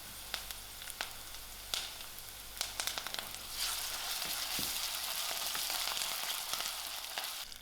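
Onions, ginger, garlic and thyme frying in a pan, a close, steady sizzle that swells louder partway through, broken by a few sharp clicks of a utensil against the pan.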